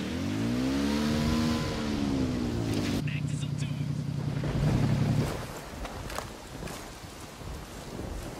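A motorbike engine in the video game Ghost Recon Wildlands revs with a rising, then falling pitch before settling into a steady, loud drone, followed by a rougher rumble with wind-like noise.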